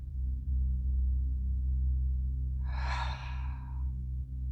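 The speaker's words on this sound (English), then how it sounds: "Deep breath in, shoulders up. Exhale, release down." A single deep, audible breath taken during a guided relaxation exercise for grief, heard alone over a low steady hum.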